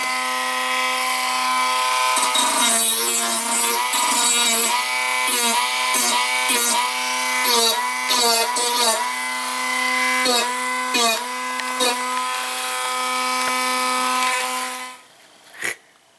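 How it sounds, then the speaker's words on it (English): A loud, steady power-tool whine with strong harmonic tones as a sanding disc grinds a metal motorcycle chain guard, pitch wavering as the disc bites, running continuously before cutting off near the end. "round it off with the sanding disc"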